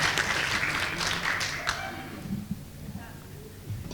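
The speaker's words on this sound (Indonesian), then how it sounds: "Tepuk tangan dulu untuk Bu Posma." A small congregation at a Thursday church prayer service applauds, the clapping loudest at the start and fading out after about two seconds, with voices murmuring underneath.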